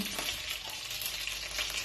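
Chicken pieces roast in a frying pan used in place of an oven, giving a steady close sizzle and crackle of hot oil with faint stirring.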